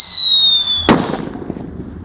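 A jumbo Whistling Thunder firecracker goes off with a high, steady whistle and shrill harmonic tones, then one sharp loud bang, with crackling and rumble fading away after it. No one speaks.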